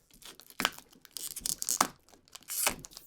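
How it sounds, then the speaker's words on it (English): Protective plastic film is peeled off the frame of a 42-inch Onn Roku TV, giving several close, crackling tearing and crinkling bursts in uneven spurts separated by short pauses. "So we're just going to start on this side and peel it off."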